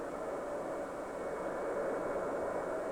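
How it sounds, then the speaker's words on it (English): A jet aircraft flying at steady speed in a straight line gives a continuous, even engine roar that holds level throughout with no other sounds. "This jet is traveling with a uniform motion."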